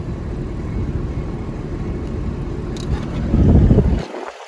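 A deep, rumbling valved exhaust on a 2008 Liberty Walk Porsche 911 drones steadily up close, swelling louder near the end before cutting off abruptly.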